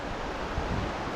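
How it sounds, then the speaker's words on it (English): Strong wind blows outdoors and buffets the microphone with a dense, continuous roar for a brief moment, with no talking. "It wasn't supposed to be windy all day either."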